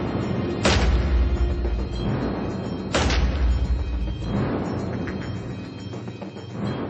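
Two loud, close gunshots from a longer-barrelled shotgun fired by a firearms expert, each a sharp blast followed by a rolling boom that echoes and fades outdoors.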